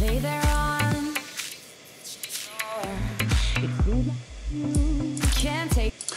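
Music running through the VirtualDJ 2023 filter effect, a dense beat with sustained tones whose upper range opens and closes in sweeps, loud and steady with no talking.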